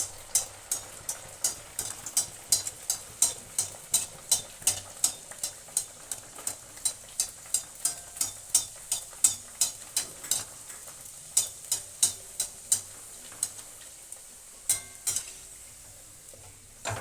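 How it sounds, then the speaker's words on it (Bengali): Pea-stuffed kachuri fry in hot oil in a pan, a soft continuous sizzle broken by a steady series of sharp, regular metallic taps and clinks from the utensil against the pan, close and fairly quiet with no talking. "তেলটা মোটামুটি গরম হয়ে গেছে, এবার এতে আমি কচুরিগুলো আস্তে আস্তে ছেড়ে দিয়ে ভেজে নেব।"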